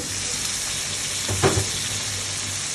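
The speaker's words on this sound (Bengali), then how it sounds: "এই দেখুন মাংসটা ভাজা ভাজা হয়ে গেছে।" Meat fries in a pan with a continuous close sizzle, broken midway by a brief scrape as it is stirred.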